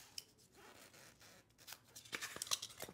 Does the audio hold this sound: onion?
no